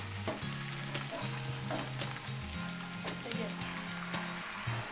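Mustard greens sizzle and crackle steadily as they are added to a hot pan, with scattered pops and stirring sounds under soft background music.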